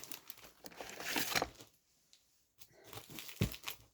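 A plastic pouch is crinkled and torn open by hand, with a dense burst of rustling, a brief pause, then a few more sharp crackles and handling sounds close up.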